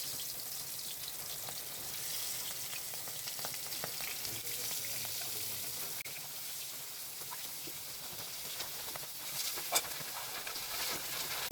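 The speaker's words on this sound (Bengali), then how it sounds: "এখন আমি মাছ ভেজে নিচ্ছি" Chapila fish sizzle in hot oil in a wok, giving a steady, soft crackling hiss throughout with a few sharper pops near the end.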